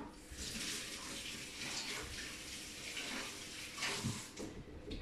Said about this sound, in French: Alors je vais rincer les mains.